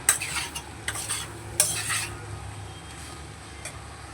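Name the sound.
stirring fish-head curry with ash gourd in a pan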